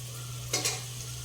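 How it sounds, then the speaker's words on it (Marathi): Tomatoes sauté in a pan with a soft sizzling hiss over a steady low hum, broken by two quick stirring swishes close together about halfway through. No one talks. "टोमॅटो घालून देखील 2 मिनिटं आपल्याला परतून घ्यायचे"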